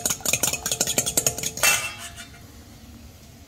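Eggs beaten in a bowl for a chard gratin: a quick run of rhythmic metallic clinks and taps of utensil against the bowl, close and fairly loud, stopping after about a second and a half and fading to quiet.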